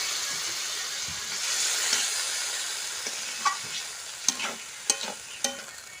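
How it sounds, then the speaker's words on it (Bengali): Water poured into a pan of potatoes frying in a village kitchen sizzles steadily, with a broad hiss and several sharp clinks of a spoon stirring against the pan. "আলুটা সেদ্ধ হওয়ার জন্য একটু জল দিব।"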